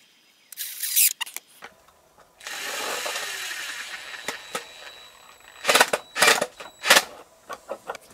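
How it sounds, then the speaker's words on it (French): A power tool drives a screw into the centre of a piece of rough timber with a sustained whirr lasting about two seconds, surrounded by sharp clicks, knocks and handling clatter. "j'ai juste vissé un centre de la pièce à chaque extrémité"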